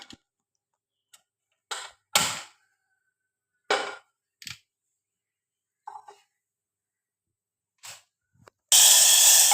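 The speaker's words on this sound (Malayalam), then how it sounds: "അപ്പോൾ ഇനി ഞാനൊന്ന് കടു വറുക്കാം." Mustard seeds fry in hot oil, popping in sharp, isolated cracks separated by quiet gaps, ending in a sudden loud burst of sizzle.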